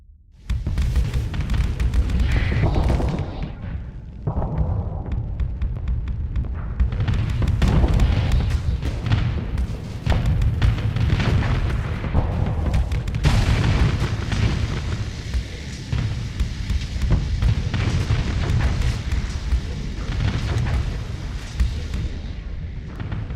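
Continuous heavy explosions as a Fury ship is destroyed in a space video game, loud deep booms and rumbling blasts rolling one into the next for over twenty seconds with no talking.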